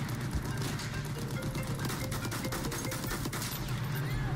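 Battlefield 1 gunfire rattles as a dense, continuous burst of shots throughout, moderately loud under a busy game soundscape with no clear talk.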